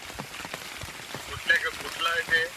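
Steady rain patters down heavily on a surface, a dense hiss with scattered drops, while a voice speaks briefly partway through.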